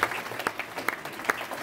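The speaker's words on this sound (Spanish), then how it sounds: "Un aplauso al Señor Jesucristo." A church congregation claps in a short burst of scattered, uneven applause with a few sharper claps standing out, fairly faint, with no talk.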